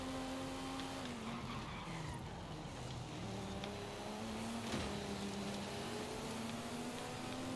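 Tires screech steadily as a car drifts and skids in the Forza Horizon 5 racing game, with the engine droning loudly underneath throughout and no talk.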